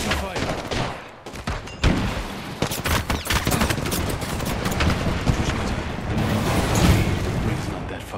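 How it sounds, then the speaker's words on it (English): Gunfire in the battle royale shooter Apex Legends, loud dense bursts of rapid automatic shots with booming impacts running through the whole stretch, almost continuous with short gaps. "Taking fire."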